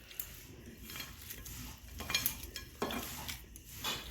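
Cooked banana flower cutlet mixture is kneaded and mixed by hand with cumin, pepper, asafoetida, Kashmiri chilli, turmeric and garam masala. The mixing gives soft, irregular squelches and faint clinks against a bowl, close and quiet, with no voices.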